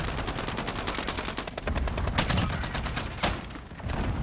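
Rapid, loud automatic fire from an EM2 rifle in Call of Duty: Warzone, dense bursts of shots continuing without a break across the whole stretch.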